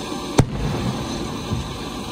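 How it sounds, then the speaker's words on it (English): Fireworks burst during a movie at a Pennsylvania drive-in theater: one sharp loud bang rises above steady rumbling ambience, with a fainter thud following about a second later. "The fireworks."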